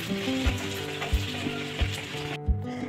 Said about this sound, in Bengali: এবার একে একে সব কচুরিগুলো ভেজে নিচ্ছি